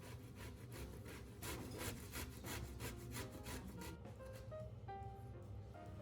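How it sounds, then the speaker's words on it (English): Pickled cucumbers are grated into thin shreds, making a steady, close rasping scrape in quick repeated strokes that then fade into softer scattered scraping. "Then grate them into thin shreds so you can clearly taste the flavor in every bite."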